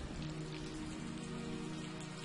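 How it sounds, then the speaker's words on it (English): Steady rain falls in the video game The Maker's Eden, a dense, even patter of drops on surfaces that stays constant and fairly close throughout, with no voices. "They're sure making use of the rain, that's for sure."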